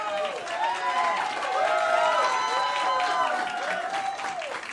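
Audience at a public hearing in a Brazilian plenary on censorship claps and cheers loudly, sustained applause with excited shouts and a voice calling out over it.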